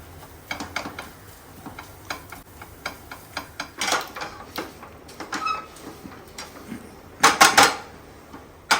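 A metal spoon mashes sticky date paste in a pan for nuts ladoo, giving irregular close clinks and scrapes that end in a louder cluster of clatter, with no voices.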